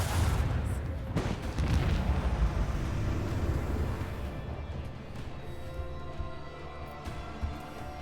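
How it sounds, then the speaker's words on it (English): Lance batteries fire in the Rogue Trader video game, a continuous, heavy rumbling barrage of booming blasts that is loud at first and slowly eases off. "Fire the lance batteries."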